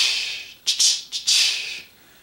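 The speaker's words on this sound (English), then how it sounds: "when a train would pull out of the subway stop, it would make a sound like this" A subway train pulls out of a station, giving a loud, high whining tone that rises and swells in a few surges and then holds steady, heard alone without talk.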